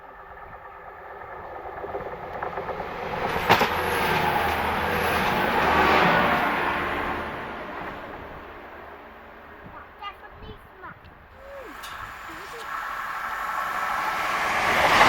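A train crosses Vigo Bridge, passing as a broad rumbling wash that swells and fades, heard from outdoors with people speaking over it and a few faint bird calls.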